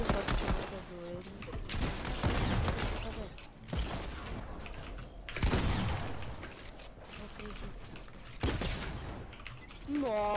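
Bursts of video game gunfire erupt in loud volleys across the stretch, trading off with excited gamer chatter and shouting layered over the shots.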